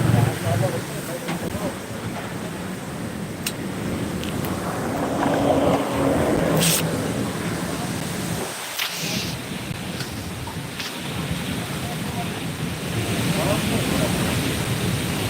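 Strong storm wind roars continuously in a violent windstorm, a loud, steady rushing with a few sharp knocks and gusts, while people talk through it.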